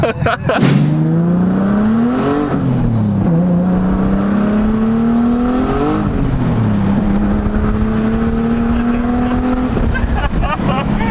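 A Nissan 370Z with a swapped Q60 twin-turbo engine drives hard, its loud engine note climbing and dropping through several gear pulls, close and continuous, while people talk over it.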